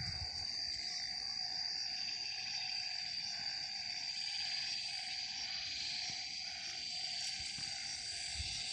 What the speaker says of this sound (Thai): นี่จะเสียงอึ่งห้อง